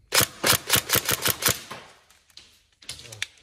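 Tokyo Marui MP5A5 NGRS airsoft electric gun fires a rapid burst of about seven sharp, evenly spaced shots up close, then a few scattered mechanical clicks and a short rattle follow after a pause.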